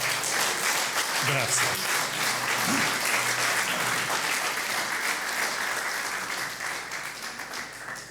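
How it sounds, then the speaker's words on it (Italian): Sustained, dense audience applause at a Sardinian tenore singing event, loud and steady for several seconds before thinning slightly toward the end, with a voice speaking briefly over it. "un altro applauso per lo Faghino"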